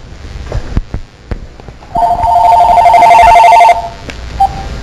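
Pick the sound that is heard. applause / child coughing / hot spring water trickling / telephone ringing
telephone ringing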